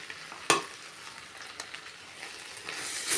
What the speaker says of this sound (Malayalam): നല്ലതുപോലെ യോജിപ്പിക്കുക.